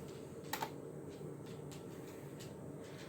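Typing on a computer keyboard being tested on an old PC showing a keyboard error at boot; a few sharp clicks stand out over a steady hum, with faint taps through the rest.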